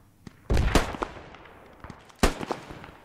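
Bursts of gunfire in a Portuguese-language squad shooter video game: two loud, close blasts near the start, then scattered fainter shots and another sharp loud report later.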